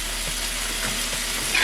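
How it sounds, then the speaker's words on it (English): Seasoned shrimp sizzle steadily in a hot pan, a dense, even frying hiss that stays loud and close throughout with no talking. "So we're gonna put our shrimp in now."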